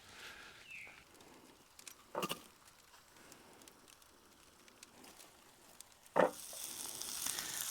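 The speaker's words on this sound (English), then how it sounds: "the plan is to fry these onions" Onions fry in a pan over a low campfire outdoors with a faint, quiet sizzle. A couple of sharp clanks from stirring or pan handling sound near 2 and 6 seconds, and the sizzle grows brighter toward the end.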